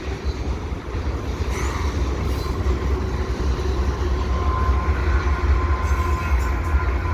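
A freight train led by a CP SD70ACU locomotive rolls past nearby with a continuous heavy rumble and rattling cars, wheels clattering steadily for several seconds without any talking.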